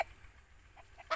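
An aseel hen gives a few short, soft clucks, close by, with a louder burst cutting in at the end.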